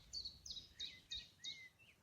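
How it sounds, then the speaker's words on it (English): Small birds chirp outdoors in nature, five short bright tweets in an even rhythm, faint and somewhat distant against a quiet low rumble. "Birds coming closer."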